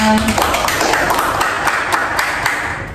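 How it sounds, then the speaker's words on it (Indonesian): A small group claps hands together during a closing counseling group session, a steady patter of overlapping claps filling the short stretch at close range. "Tepuk tangan dulu untuk kita semua."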